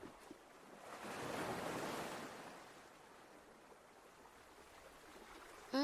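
Ocean waves wash onto the shore on the Keelung coast, one soft swell building and receding under light wind, distant and faint, ending in a brief click.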